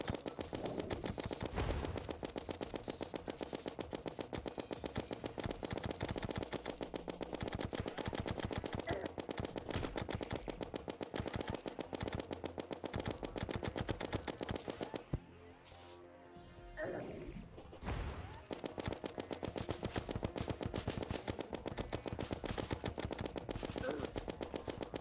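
Minishark gun in the Terraria Fargo's Souls mod fires rapidly and continuously, a loud steady machine-gun rattle that pauses briefly near the middle and then resumes.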